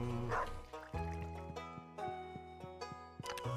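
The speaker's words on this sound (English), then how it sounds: "Sort of wish the dog barks were separate" Dog barks from a video game, a few short yips over a tonal game music backdrop, fairly quiet and mixed under the score.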